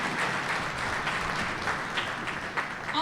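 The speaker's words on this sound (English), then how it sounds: "So a round of applause to all of our administration here at Penndale" Audience applause at a Penndale 8th grade winter school concert, a steady wash of clapping from a crowd, moderately loud and continuous through the short stretch.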